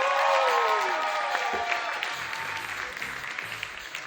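Comedy club audience at the Laugh Factory in Chicago applauding a reigning champion contestant, a dense, steady burst of clapping that stays loud for several seconds, with a few cheers and a held whistle-like tone at the start.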